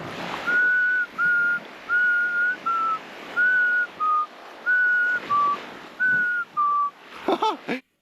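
A person whistles a short repeated two-note pattern, clear and close, in evenly spaced phrases, ending with a few quick chirps.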